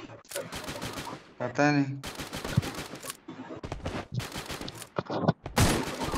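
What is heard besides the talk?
gunshots from a shooter video game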